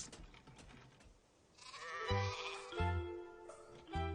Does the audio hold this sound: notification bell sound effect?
no